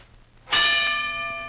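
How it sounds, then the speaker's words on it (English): A single loud bell strike rings out after a quiet moment, its bright metallic tone sustaining and slowly fading over the following second. "There's the bell. His first fight is on."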